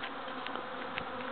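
Honeybee swarm in a backyard, a dense steady buzz of many wings with a few individual bees passing close, no talk.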